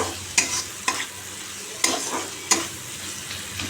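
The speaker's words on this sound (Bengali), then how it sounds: "মশলাটা এখন কষাচ্ছি পেঁয়াজ জিরের গুঁড়ো কাঁচা লঙ্কা টমেটো" Spices, onion, cumin powder, green chili and tomato fry in a pan with a soft, continuous sizzle. Four sharp scraping stirs stand out at roughly one-second intervals, close and clear, with no talking.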